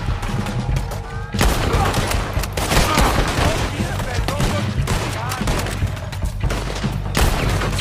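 Rapid bursts of gunfire crackle through a Red Dead Redemption 2 shootout, shots overlapping into dense volleys with a few brief pauses, loud and close, while a voice talks over parts of the action.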